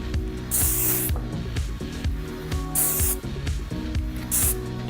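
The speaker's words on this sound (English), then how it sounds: "spray directly onto the hairline" Three short bursts of hairspray hiss from an aerosol can at spaced intervals, each about half a second long, over quiet background music.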